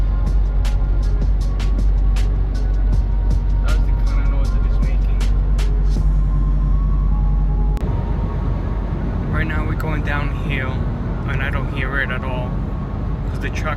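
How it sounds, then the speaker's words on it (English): A steady low hum and vibration from a truck cruising on the road, loud and continuous from inside the cab, with the road noise shifting midway and someone talking over it. "it's still making the noise"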